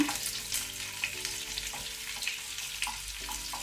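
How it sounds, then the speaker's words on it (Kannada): Chopped ginger and garlic frying in oil in a pan, a steady close sizzle with occasional stirring scrapes, no talking. "ಜಿಂಜರ್ ಸ್ವಲ್ಪ ಇದನ್ನು ನಾವು ಫ್ರೈ ಮಾಡ್ಕೊಳ್ಳೋಣ."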